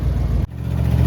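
A 2002 one-ton Ford F150 with an electric locker engaged, revving hard as its wheels spin, a steady close engine roar with a brief dip midway before climbing back.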